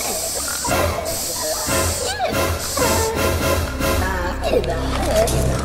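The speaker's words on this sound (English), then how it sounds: "Bug spray." Insect spray hisses from a can in short bursts over a steady background, with people talking in the scene.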